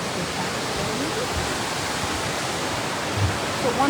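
Water from the PADU hydro power station turbine house pouring back into the river, a dense, steady rushing roar like a waterfall, close and continuous with no clear breaks.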